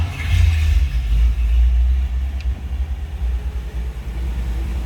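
A 1950 Cadillac Series 62 Convertible engine cranks and settles into running, a deep, loud low rumble that pulses slightly as it idles close by, with no voices.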